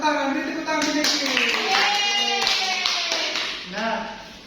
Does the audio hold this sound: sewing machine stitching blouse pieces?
no